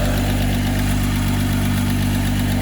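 A six-cylinder engine running on all cylinders, a loud, steady idle with a constant low hum and even vibration filling the whole moment, no voices.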